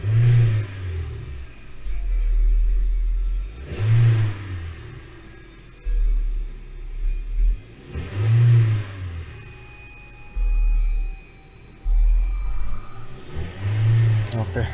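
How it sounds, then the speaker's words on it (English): A 2018 Hyundai Elantra engine with a misfire and an out-of-spec spark plug is snap-revved in park, with four sharp throttle blips rising and dropping back to a rumbling idle, close by, with speech between them. "I'm gonna do park and do some snap throttle"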